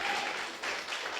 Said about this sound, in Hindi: एक बार ताली बजाओ जोर से उसके लिए